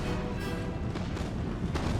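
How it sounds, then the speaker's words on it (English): Cannon fire from a video game, Empire Total War, heard as a dense, continuous rumble of booms filling the scene, with a few sharper blasts standing out near and loud. "Cannon, fire."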